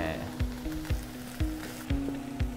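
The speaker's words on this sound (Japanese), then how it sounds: "ナス、インゲン豆、チンゲン菜の順番で炒めていきます。" Eggplant, green beans and bok choy stir-fry in a pan for a Filipino kare-kare, giving a steady sizzle with a few soft thuds and scrapes from stirring spaced roughly every half second, close and moderately loud.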